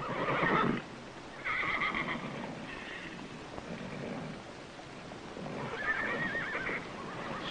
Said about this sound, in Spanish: Traje unos caballos para subastarlos.